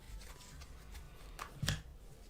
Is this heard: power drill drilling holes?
no